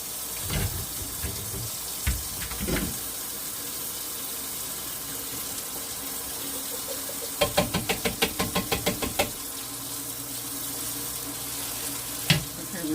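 Tap water runs steadily into a sink while taco soup ingredients are rinsed, with a few knocks and a quick series of rattling taps partway through.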